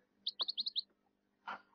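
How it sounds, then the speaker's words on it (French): Cage birds chirp in a quick run of five or six bright, high tweets, followed by a single louder call, close and clear against a quiet room. "Les oiseaux en cage."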